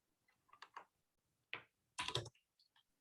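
Short bursts of typing on a computer keyboard while writing code, with a few clustered clacks, a pause, then a sharper flurry of keystrokes, close and fairly quiet.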